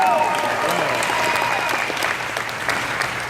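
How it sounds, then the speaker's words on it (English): An audience at a live motivational talk breaks into a dense round of clapping, loud and continuous for a few seconds before gradually thinning out. "Give her a round of applause."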